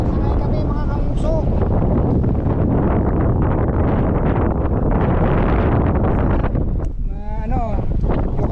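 Strong wind buffets the microphone on Mt. Batulao, a loud continuous roar and rustle that persists throughout with brief gusty swells, voices talking faintly underneath.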